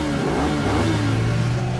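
Cartoon super bike engine revving loudly and close, a dense rising roar with a rattly edge, heard alone without talking.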